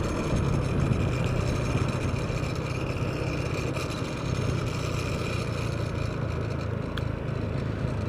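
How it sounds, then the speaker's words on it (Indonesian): A Honda Vario scooter engine drones steadily ahead on a narrow road during a ride in Temanggung, a constant buzzing hum mixed with road and wind noise and no talking. "Suara vario di depan."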